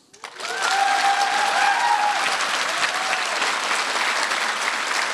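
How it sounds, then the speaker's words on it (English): After a short pause, a lightning-talk audience bursts into steady applause, a close, even wash of clapping that holds at full strength to the end with no talk over it. "Can we have a round of applause?"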